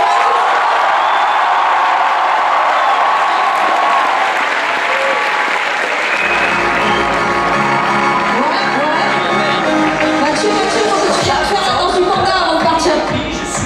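A large audience at an anime convention talk applauds loudly and steadily, the clapping swelling with some cheers and whoops mixed in throughout.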